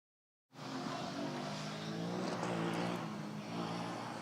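A Porto team's Formula Student race car sweeps past the Noordkurve grandstand during an endurance event, engine note bursting in suddenly and holding a loud, droning whine with faint crowd noise behind it.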